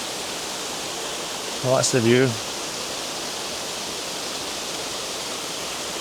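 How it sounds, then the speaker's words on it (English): Steady broadband rush of a waterfall at the 4 Angels Waterfall fills the whole scene, with someone speaking briefly over it partway through. "Told you it was a pretty waterfall."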